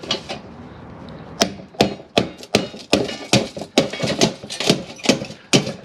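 A series of sharp hammer strikes on a chisel breaking apart a scrap speaker for its copper, about a dozen hard blows at an uneven, fairly quick pace, close up.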